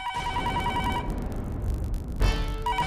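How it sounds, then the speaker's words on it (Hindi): A telephone rings in a repeated electronic trill, pausing briefly before ringing again, fairly close and clear over a low background hum. "दिन भर ये फोन बजता रहे"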